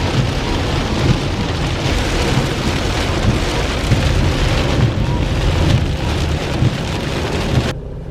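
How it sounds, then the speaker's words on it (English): Torrential downpour heard from inside a vehicle during a drive, a dense, steady roar of heavy rain drumming on the car's surfaces throughout, loud and unbroken, with a low rumble underneath. "It was like a torrential downpour."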